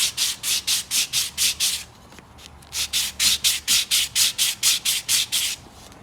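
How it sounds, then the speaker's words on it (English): A sanding block wrapped in sandpaper rubs down the corners of a cedar wood piece in close, rhythmic rasping strokes: a run of about seven quick passes, a short pause, then roughly ten more, with no talk. "put the sandpaper on it, and now I can just sand and break those corners"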